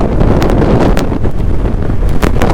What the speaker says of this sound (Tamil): காற்று சும்மா பட்டையை கிளப்பிட்டு அடிக்குது.